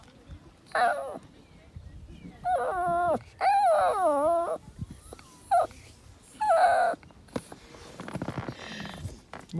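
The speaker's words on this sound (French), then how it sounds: "Il parle ce chien." Dog on a semi-nomadic trip whimpering and yipping in a string of drawn-out, whiny vocal bursts, close and fairly loud, with pauses and faint background sounds between them.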